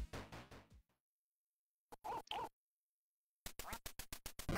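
Ducks in the Duck Hunt video game quack in short bursts: a run of quick quacks, a pause, a few more, then another rapid regular series of quacks, loud and isolated against silence.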